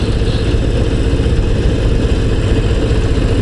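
A Harley-Davidson Low Rider ST motorcycle idles close by, its engine a steady, heavy low rumble that holds an even level throughout.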